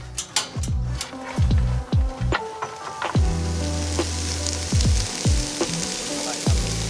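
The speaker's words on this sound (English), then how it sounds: "I've got our onions really thinly sliced. We're gonna go ahead and start getting those sauteed. We've got some butter," Thinly sliced onions sautéing in butter in a pan at a riverside campsite, a close, steady sizzle with scattered pops and crackles and some brief low tones underneath.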